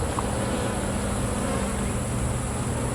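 Italian honey bees swarm around an opened hive during an inspection, a dense continuous buzzing drone, loud and close, with no speech.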